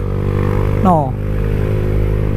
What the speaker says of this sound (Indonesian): Kita tarik gasnya.